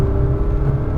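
Car engine pulling hard under power on a track day in Vegas, a steady close droning roar for about a second with no talk.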